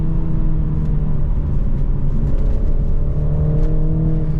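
A 2022 BMW Z4 sDrive 2.0 convertible engine hums and strains steadily as it accelerates in third or fourth gear around 2000 RPM, a continuous close drone with a slowly rising pitch and no talking.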